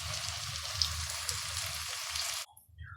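Onions frying in a pot with green chillies for one-pot chicken biryani, a steady moderate sizzle that cuts off abruptly, leaving near silence with a few faint clinks.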